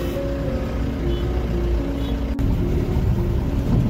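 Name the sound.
car driving on a bumpy village road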